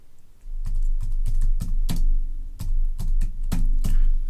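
Close, steady typing on a computer keyboard as a short comment is entered, with rapid irregular key clicks forming a dense run over a constant low hum.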